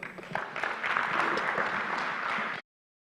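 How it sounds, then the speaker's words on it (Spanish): Audience at a Bible conference session applauds, a steady dense burst of clapping that holds for about two and a half seconds and then cuts off abruptly, with no voices over it. "Con fuertes aplausos."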